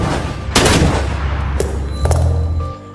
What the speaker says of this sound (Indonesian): Saat hendak membunuh Jolie, dengan sigap Jolie menembaknya